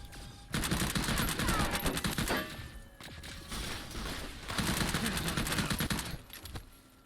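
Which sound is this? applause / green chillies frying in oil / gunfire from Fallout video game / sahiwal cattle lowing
gunfire from Fallout video game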